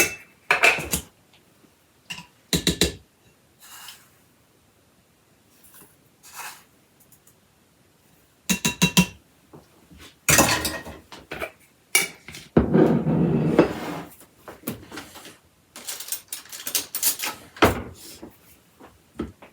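Brown sugar and white sugar tipped into a bowl while baking a sourdough coffee cake, heard as scattered soft pours, scrapes and clinks of measuring cups against the bowl, with quiet gaps between bursts.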